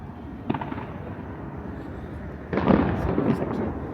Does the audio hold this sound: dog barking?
no